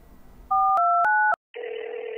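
A telephone dial sequence plays: three quick paired-tone beeps of dialing, each ending in a click, then a brief silence and a steady ringing tone, close and clear with no voices.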